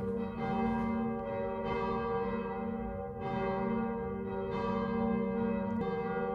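A church bell rings loudly and close by, several sustained strikes with long overlapping resonance, heard on a pilgrimage walk to Lourdes.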